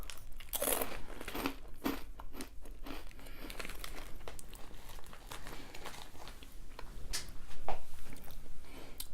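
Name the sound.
crunching green onion flavored snack from Ukraine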